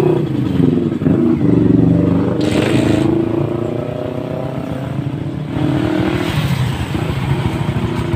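A Yamaha TMX 125 motorcycle engine with a weak battery idles close by, a steady low rumble with a slight rise and fall in pitch, running without pause for several seconds.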